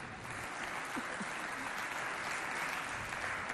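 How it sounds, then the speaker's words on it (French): A studio audience at a televised show applauds, continuous, even clapping at moderate volume with a few faint voices mixed in. "Applaudissez très fort pour elle."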